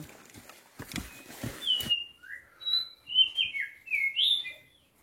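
Several forest birds chirp and whistle in short, clear phrases against a quiet background, after a few brief rustling knocks at the start, on a mountain hiking trail on Mount Pangrango.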